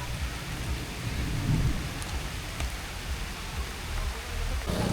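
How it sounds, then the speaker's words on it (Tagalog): Steady heavy rain hisses continuously at Pantihan Falls, with a low rumble of thunder underneath and no voices. "Ay, wala pa rin tigil ang ulan."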